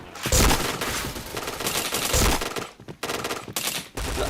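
Repeated bursts of automatic gunfire in the online shooter Point Blank, loud and dense, with heavy low blasts and short gaps between volleys.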